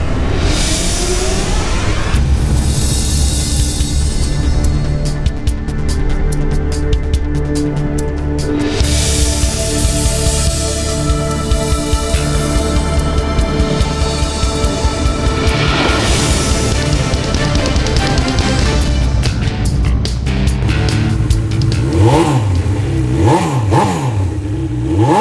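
A 2018 Honda CB1000R ABS motorcycle engine revs loudly up close, rising and falling in repeated blips with a harsh, rasping exhaust and no voices.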